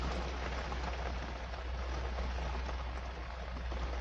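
Heavy rain pouring down, a dense continuous hiss of falling water at steady volume with a low rumble beneath and no talk.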